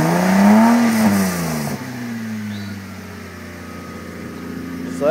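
A Toyota Land Cruiser FZJ80 with a new exhaust revs up loudly and close by, its pitch climbing and falling before it settles back to a steady, deep idle rumble.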